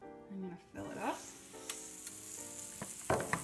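Waffle batter ladled into a hot Oster Belgian waffle maker, with a soft pour and splatter followed by bursts of sizzling and a few clicks and clacks of the ladle, quiet and close.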